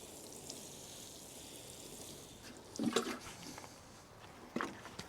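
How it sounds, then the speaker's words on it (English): Water is poured onto a dry garden bed before spring onions are sown, heard as two brief, faint splashing bursts against quiet outdoor background. "the ground's quite dry at the moment, so I'm giving it a bit of a pre-water"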